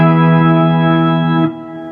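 A sustained electric guitar swell tone from a Disaster Area pedalboard controller rings as a single smooth, harmonically rich note held steadily, then shifts and softens near the end.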